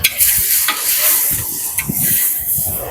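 Spices with ginger paste and garlic paste frying in a hot pan over browned onions, a steady close sizzle with scraping stir strokes from a utensil throughout.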